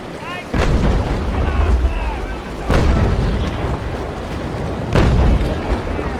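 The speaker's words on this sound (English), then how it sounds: "I'm going to load grape and see what happens." Ship cannons firing grape shot in the naval battle game Naval Action, three heavy booms spaced about two seconds apart over a constant rumble of sea and battle ambience.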